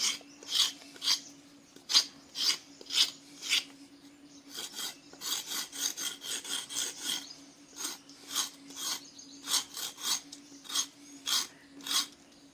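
Repeated rasping strokes of a blade scraping the outer bark off a cinnamon branch laid flat on the ground, a steady series of close, dry scrapes in uneven rhythm, with a faint constant hum beneath.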